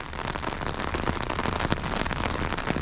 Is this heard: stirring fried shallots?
no